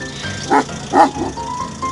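Two or three short, close dog barks in quick succession, followed by a faint whine.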